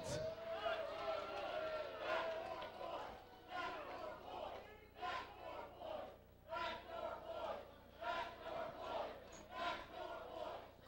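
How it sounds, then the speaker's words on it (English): A wrestling crowd at an NWA Wildside Fright Night 2002 tag team event jeers in loud rhythmic waves of chanting and shouting, with a voice talking over the din at times. "Crowd not very respectful of the Backseat Boys."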